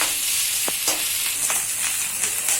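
Short burst of rice frying in a pan, a constant close hiss of hot oil broken by a few crisp scrapes and taps of a spatula against the pan, no voices.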